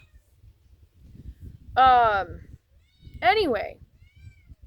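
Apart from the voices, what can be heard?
cat meowing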